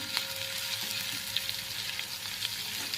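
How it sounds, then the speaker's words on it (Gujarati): Cumin, curry leaves, ginger and chillies tempering in hot oil give a constant close sizzle with scattered small pops and crackles, no voices. "તેલ ગરમ થઈ જાય એટલે જીરું, મીઠા લીમડાના પાન, આદુ અને મરચાં એનો વઘાર કરવાનો છે."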